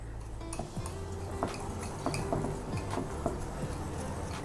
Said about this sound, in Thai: ก็ค่อยๆ คนส่วนผสมไปนะครับ